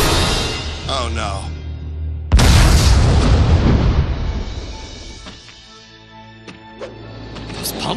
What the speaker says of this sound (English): Those pumpkin bombs sure came in handy.